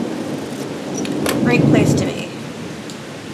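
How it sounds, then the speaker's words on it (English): Rain and thunder outside an art studio: a low, rolling thunder rumble swells and fades over steady rainfall while a voice talks briefly nearby. "Ooh, listen to that. I love being in the studio when it's raining."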